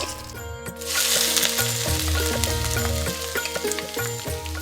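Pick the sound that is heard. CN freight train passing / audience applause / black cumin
black cumin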